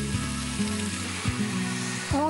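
Spinach frying in a pan with other ingredients already cooked, a steady close sizzle with occasional stirring scrapes.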